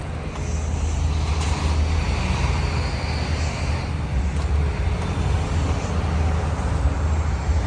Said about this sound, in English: Big black truck right here.